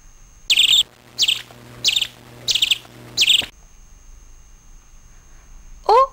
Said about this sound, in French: Oh, un moineau. Il cherche à manger.